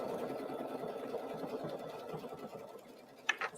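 A sewing machine stitching an applique runs with a quiet, steady mechanical whir, then a couple of sharp clicks near the end.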